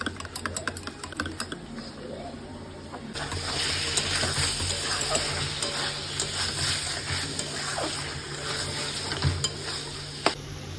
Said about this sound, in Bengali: দইটা ফেটিয়ে নিচ্ছি ভালো করে